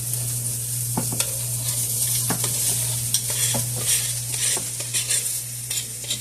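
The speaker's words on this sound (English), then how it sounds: "everything is going into a hot skillet" Vegetables fry in a hot skillet with a bright, continuous sizzle, broken by repeated scraping knocks of a utensil turning them, close and fairly loud over a steady low hum.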